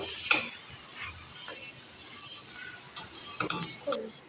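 Chopped onions fry with curry leaves in a pan for spicy chana dal, a soft steady sizzle broken by sharp clinks and scrapes of a spoon stirring.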